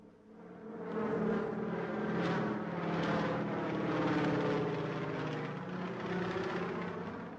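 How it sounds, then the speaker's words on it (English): Training aircraft take off and fly low over Bremen Airport in 1965. A steady engine drone swells up and holds loud and near throughout, with no voices. "they were able to demonstrate to the eminent African visitors takeoff and perfect low-flying exercises"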